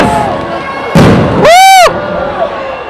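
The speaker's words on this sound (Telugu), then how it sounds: "వెనకాల చూడండి ఫైర్ క్రాకర్స్" Fireworks going off at a cricket stadium after a match win: a sharp broadband burst, then a brief rising whistle, over a loud crowd murmur.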